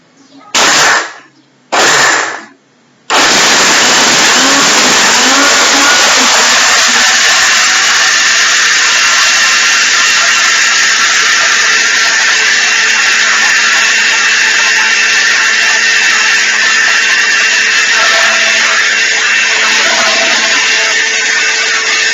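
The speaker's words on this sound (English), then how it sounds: "It's ready to blend." A blender runs loud and steady for roughly twenty seconds, whirring through oats, banana and peanuts for a smoothie, after a few short on-off pulses at the start.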